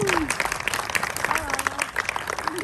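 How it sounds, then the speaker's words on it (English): Outdoor audience at the Historic Cushman Street Fair 2023 claps for a neighborhood council, a brief burst of applause with a few whistles over steady crowd chatter and nearby talk. "So let's give a round of applause for the North End Neighborhood Council here."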